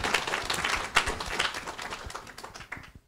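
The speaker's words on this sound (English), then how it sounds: "I think we should clap." An audience claps together at a livestreamed public event on same-sex marriage, a dense, steady patter of many hands that holds for about three seconds before tapering off.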